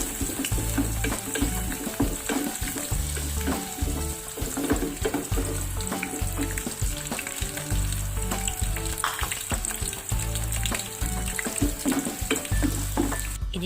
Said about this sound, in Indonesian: sekarang aku mau goreng bawang putih 3 siung.